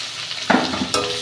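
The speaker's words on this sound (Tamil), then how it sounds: "இப்போ ரெண்டு பெரிய வெங்காயம் கட் பண்ணி வெங்காயத்தை நல்லா சேர்த்துக்கலாம்" Two large sliced onions go into hot oil for a garlic and dried red chilli chutney, sizzling steadily up close, with a couple of brief stirring scrapes.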